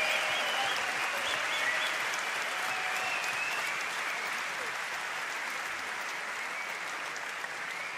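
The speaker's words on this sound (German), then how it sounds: "hätte ich ganz gerne als allererstes für einen guten Kampf einen großen Applaus" Steady applause from a large audience at an MMA event in Hannover, dense and even clapping that holds for several seconds, with a faint murmur of crowd voices underneath.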